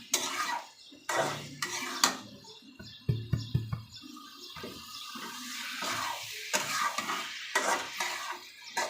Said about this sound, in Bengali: এখন আমি একটু হালকা একটু কষিয়ে নেব।